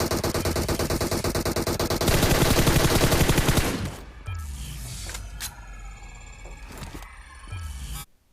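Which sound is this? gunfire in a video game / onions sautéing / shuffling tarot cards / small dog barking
gunfire in a video game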